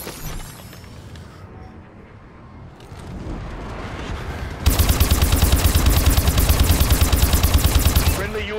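A bombing run in Call of Duty: Advanced Warfare on the Perplex map: after a muffled rumbling buildup, a loud, dense barrage of rapid, rhythmic blasts and gunfire-like cracks hammers on to the end.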